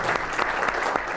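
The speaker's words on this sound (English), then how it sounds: "let's have a clap for" A room full of people at a drug court session claps together to celebrate five months of sobriety, a dense, steady burst of applause that sounds close and full, with no speech heard over it.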